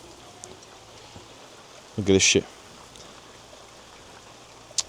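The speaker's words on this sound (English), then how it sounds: "Bro, this is the maddest rain" Heavy rain pours outdoors in Spain, a steady hiss of falling water throughout, briefly covered by a man's short exclamation near the middle.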